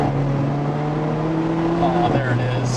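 Alfa Romeo 4C Spider sports car accelerating, engine note climbing steadily then dropping at a gear change, heard from inside the cabin with a voice speaking briefly over it.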